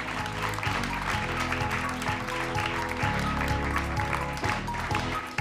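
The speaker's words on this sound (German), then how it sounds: "Also ein Applaus bitte für Lena" Audience applause for contestant Lena on a beer-drinking quiz show stage, a continuous clapping wash mixed with sustained tonal music or hum beneath, steady and fairly loud throughout.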